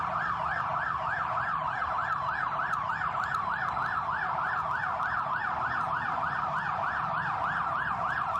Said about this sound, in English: So there's the ambulance.